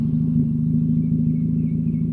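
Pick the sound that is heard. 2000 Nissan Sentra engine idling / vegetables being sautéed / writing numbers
2000 Nissan Sentra engine idling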